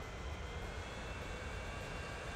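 Aircraft engine in the Transport Fever video game, a steady broadband roar and whoosh holding at a constant moderate level throughout, with no voices over it.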